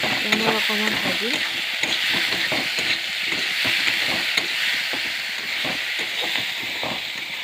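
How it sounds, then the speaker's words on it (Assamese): Mushrooms, potato and pumpkin frying in a pan, a loud continuous sizzle with scraping spatula strokes at the start and steady hissing throughout, close up. "মই অকণমান ভাজিম।"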